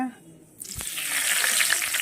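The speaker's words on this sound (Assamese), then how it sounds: "এতিয়া ইয়াতে দি দিম তেজপাত এফিলা" A single bay leaf drops into hot oil in a wok: a moment of quiet, then a sudden bright sizzle that swells and holds loudly to the end.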